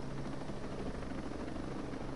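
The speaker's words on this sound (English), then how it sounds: "I guess we go to the helicopter now?" A helicopter in the video game Ghost Recon Breakpoint gives a constant, fairly quiet rotor drone with a faint rhythmic thump, steady throughout and with no voices.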